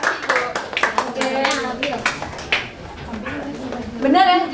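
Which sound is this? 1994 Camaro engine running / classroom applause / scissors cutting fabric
classroom applause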